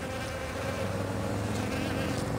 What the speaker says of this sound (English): Got a whole buttload of bees in here.